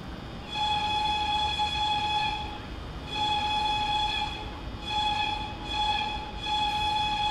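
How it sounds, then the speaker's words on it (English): A BR103 locomotive air whistle in Train Sim World 4 sounds in repeated long blasts, a bright multi-tone chord cut by short pauses, loud over constant rolling train noise. "the sound of her air whistle is identical to the BR110/3"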